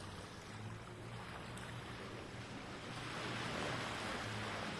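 Waves washing ashore along a seaside coastline, a steady broad rush of surf with wind buffeting the microphone, growing slightly louder toward the end, with no voices.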